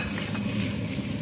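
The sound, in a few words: stirring bacon, turkey and chicken in a pan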